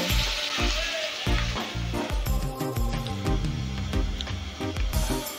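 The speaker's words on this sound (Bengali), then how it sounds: "লবণ আর হলুদ গুঁড়োটাকে নাড়াচাড়া করে মিশিয়ে নিচ্ছি" Ridge gourd and potatoes sizzle loudly in a pan with salt and turmeric while being stirred, with repeated scraping thumps of the utensil over a continuous fry hiss.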